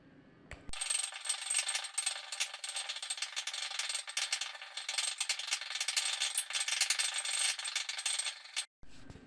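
Salt and water being stirred into a solution in a container, a steady bright scraping and clinking rattle that runs continuously for most of the clip, close and fairly loud, with no talk.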